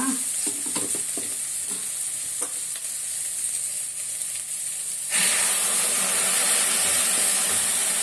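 Liver with ginger and garlic fries in a pan with a steady, close sizzling hiss and scattered stirring clicks, then the hiss jumps louder and fuller as more is poured in.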